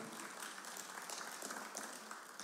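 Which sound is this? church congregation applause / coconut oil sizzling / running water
church congregation applause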